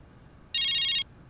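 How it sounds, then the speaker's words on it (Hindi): A phone ringtone rings once, a bright electronic trill lasting about half a second over quiet room tone. "फोन आया, फोन।"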